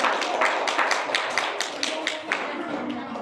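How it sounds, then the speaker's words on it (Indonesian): Clapping for a presenter in a classroom, a modest round of hands from a small group, sharp and fairly close, fading out after about three seconds with faint talk underneath. "Oke, tepuk tangan dulu buat Sulastriani."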